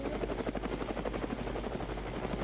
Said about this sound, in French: je vais quand même vous montrer comment faire décoller un hélicoptère